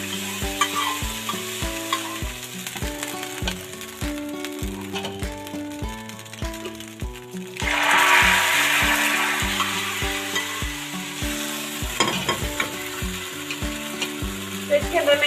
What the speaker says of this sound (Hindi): तो इसके अंदर मैं ये अब तड़का डाल रही हूँ।